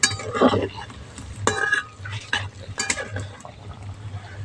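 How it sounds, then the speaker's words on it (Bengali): Coconut-filled Gokul pitha frying in a pan, with a steady low oil bubble under bursts of utensil scraping and metallic clinks as the cakes are turned. "আর এক পিঠ উল্টে লাল লাল করে ভেজে নিচ্ছি একটু"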